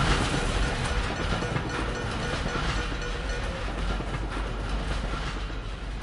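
Steady rumbling railroad train noise in the Dishonored video game, a continuous broadband clatter holding at an even loud level throughout with no break.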